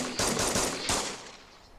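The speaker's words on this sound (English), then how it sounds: "they're shooting at each other" Brief volley of video game gunfire as groups shoot at each other, a few quick shots at a moderate distance fading into a decaying echo.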